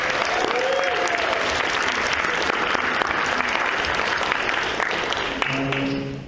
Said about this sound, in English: a round of applause for Daria Sullivan